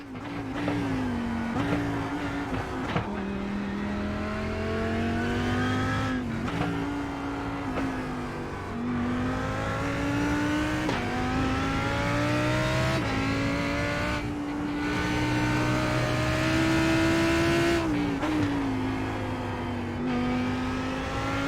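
GT race cars in a sim racing game at Okayama, the engine note rising and falling steadily through gear changes and braking as the car laps, loud and continuous with no talk.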